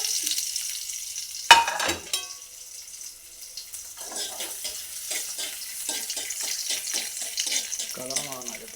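Coconut pieces frying in ghee in a pan while making banana-leaf halwa: a steady, close sizzle with a sharp clatter as the pieces go in, followed by stirring scrapes under occasional soft voice sounds.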